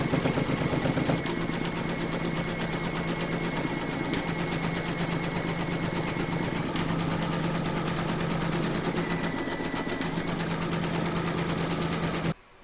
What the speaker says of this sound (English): Load the thread colour that you want for the quilting at the top here into your machine, and then you're going to stitch round number 6